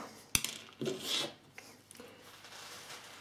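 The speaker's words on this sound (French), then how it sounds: "On va ensuite démonter la petite partie de protection à l'avant." Small front protective part of an Iwata airbrush being unscrewed and removed: a sharp metallic click followed by brief rasping and rubbing of metal parts, close and quiet with no talk.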